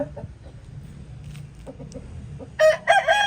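A large rooster of about four kilograms clucks and calls, then lets out a louder, sharper burst of crowing near the end, close by.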